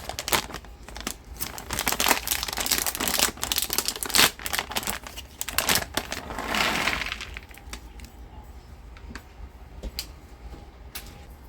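Half a bag of pecans poured into a mixing bowl of cookie dough with raisins, a dense rattling clatter of nuts for several seconds, then tapering into quieter crinkling of the bag.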